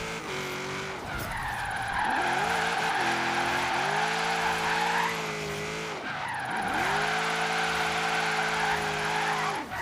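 A car in the racing game Forza Horizon 3 drifts with long, steady tire squeals over a droning engine, sliding in two sustained passes with a brief break between, loud and continuous.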